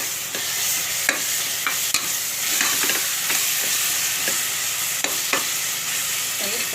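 Chilli powder, turmeric and curd fry in a pan for prawn biryani: a steady close sizzle with irregular scraping stirs breaking through, and no voices.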